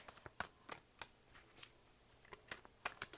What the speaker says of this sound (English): I'm going to stop shuffling now